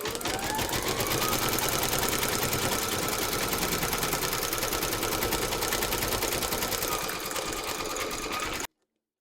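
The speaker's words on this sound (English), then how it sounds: "We're now going to stitch round number 3, and that's going to give you the outline of the teddy." A home embroidery machine stitches the outline of an appliqué teddy in a Kreative Kiwi design, a loud, fast, even needle rattle that runs continuously and then stops abruptly.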